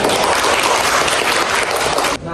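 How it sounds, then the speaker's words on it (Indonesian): Classroom audience applause during a project-based learning simulation: dense, steady clapping that stays loud for about two seconds and then cuts off abruptly. "Beri tepuk tangan pada semuanya."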